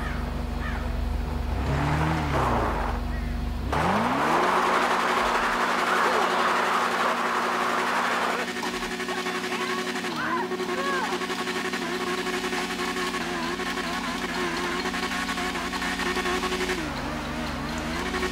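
A Kawasaki Ninja sportbike in GTA V revs hard and sustains high RPM, with rising and falling engine whine over a constant droning background.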